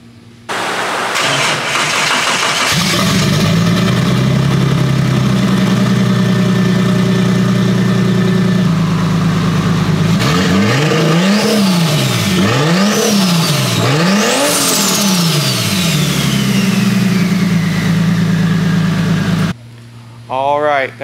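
A turbocharged car engine with an open downpipe cranks and catches on its first start, then runs loud and raspy at idle, with several sharp revs rising and falling before it cuts off.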